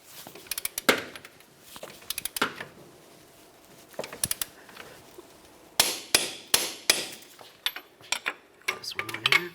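A torque wrench tightening the front strut bolts of a 2006-2012 Toyota RAV4 to 177 foot-pounds, heard as sharp, close metallic clicks and clanks in irregular bursts with quiet gaps between them.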